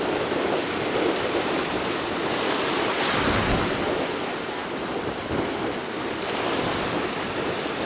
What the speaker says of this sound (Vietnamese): Anh này vừa ra thì nhảy sóng rất là dữ dội nha.